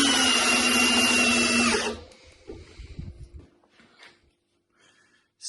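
A Makita DHP482 cordless drill drives a 160 mm screw into a 2x8 board, a loud close whirring drone for about two seconds that cuts off, followed by faint handling knocks and quiet.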